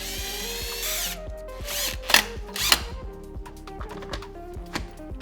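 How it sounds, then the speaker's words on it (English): Power drill driving self-tapping screws into a bicycle frame during an e-bike conversion, several short whirring bursts with two sharper high-pitched spikes and clicks between, close and loud, with no talk. "So I marked the spot, used a punch, and drilled in self-tapping screws."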